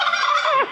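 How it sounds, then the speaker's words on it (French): A turkey lets out a single short gobble, a quick rattling burst that ends in a falling note, close and fairly loud with no talking over it. "Dindon."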